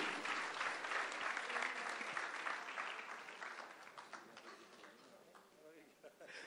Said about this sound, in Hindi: पूरी जो कास्ट एंड क्रू है उनको हम लोग जोरदार तालियों के साथ स्टेज पे इनवाइट करें